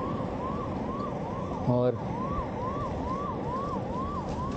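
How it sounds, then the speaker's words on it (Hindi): An ambulance siren passes along the road during a 200 km brevet bike ride, its wail rising and falling in steady repeated sweeps over road noise, with a short horn-like blast partway through and a brief spoken word. "थोड़ा साइड में हो जाता है, एम्बुलेंस आ रही है।"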